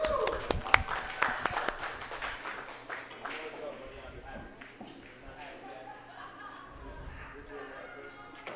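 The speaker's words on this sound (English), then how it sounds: "Let's have a round of applause for the 6th place finisher in Open Division" A crowd at a maritime championship claps in a brisk burst of applause for the sixth-place Open Division finisher, sharp and close at first, then thinning into scattered claps as voices chatter.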